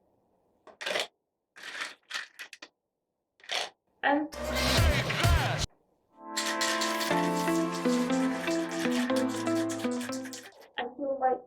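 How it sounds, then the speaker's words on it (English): Ice cubes tumbling into a metal cocktail shaker for a tequila margarita, a few scattered clinks first, then a brief dense rattle and a sustained bright, ringing shake of ice against metal, with a word spoken briefly. "Fill the shaker with ice cubes."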